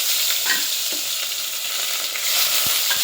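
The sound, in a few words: onion and garlic frying in hot oil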